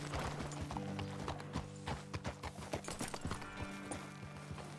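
Horse hooves clip-clop steadily in Red Dead Redemption 2, a rhythmic run of close, clear hoof strikes over a low sustained musical drone, with a faint whinny in the mix.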